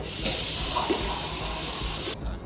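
Steady hissing rush of water pouring into a glass for about two seconds, continuous and close, stopping abruptly at the end.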